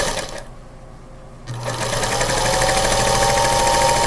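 A sewing machine stitches quilt pieces for a holiday cardinal three-yard quilt, starting up about halfway through after a quiet pause and then running in a steady, close, continuous whir to the end.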